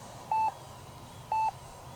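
Two short, identical electronic beeps about a second apart from an XFly-Model Red Twinliner twin EDF RC jet, steady and fairly faint over low background noise.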